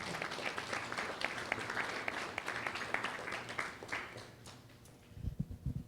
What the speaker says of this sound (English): give all of ourselves a big round of applause for being here tonight